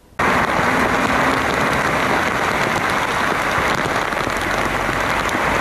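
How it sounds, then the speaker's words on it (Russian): Heavy freezing rain falls during a November storm in Kirov, a dense, loud and unbroken hiss that starts abruptly and holds steady throughout, with no voices. "Дождь шел практически сутки."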